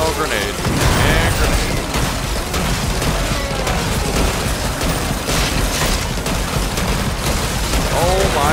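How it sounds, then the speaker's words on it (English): Grenade explosions in the zombie defense video game Yet Another Zombie Defense HD, booming blasts over dense continuous gunfire and clattering mechanisms, with a voice talking over the chaos. "Oh, grenade."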